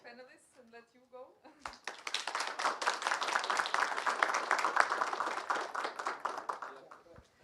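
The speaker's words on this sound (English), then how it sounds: "we can do a round of applause for the panelists" A conference audience applauds the panelists with steady, dense clapping that swells and holds for several seconds before fading. A voice speaks briefly just before the clapping begins.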